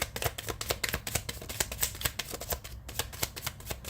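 Rapid, crisp riffling of tarot cards being shuffled, a dense run of papery flutters and snaps repeating for several seconds, close and fairly loud.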